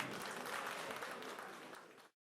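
Applause from an audience at an association gathering, a faint, even wash of clapping for about two seconds that cuts off abruptly.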